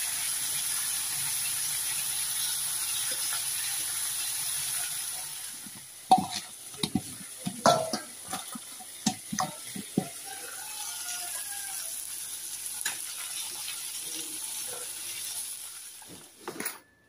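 Fish, probably pomfret, frying in oil in a home kitchen: a steady sizzle runs throughout, joined after the first few seconds by sharp, close clatters and scrapes of a utensil in the pan.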